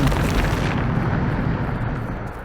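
The Bombarda spell detonating in Hogwarts Legacy, a heavy, sustained rumbling blast that fills the space and slowly fades, loud and close with no talk over it.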